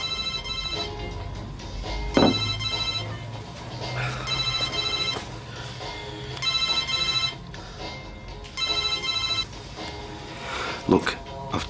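An electronic phone ringtone chirps in repeated short bursts of bright tones, recurring steadily over background chatter and a low hum.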